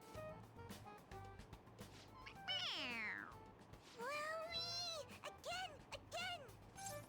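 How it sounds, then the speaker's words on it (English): A toy cat in Persona 5 Royal gives a series of clear, high meows when its head is pressed, several drawn-out cries spread across the clip with short gaps between them and no talking. "It meows when you press on its head."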